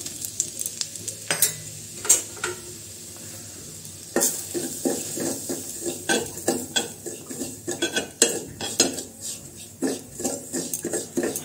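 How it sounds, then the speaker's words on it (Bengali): Semolina frying in ghee for halwa, with a spatula repeatedly scraping and clinking against the pan over a soft sizzle, close and steady without voices. "এখন সুজিটা একটু ভেজে নেব"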